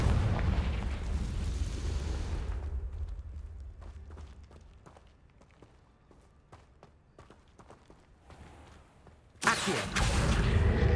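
A Confringo fire spell blasting in Hogwarts Legacy, a loud burst and rumble at first, then quieter scattered clicks and thuds, and another sudden loud blast near the end.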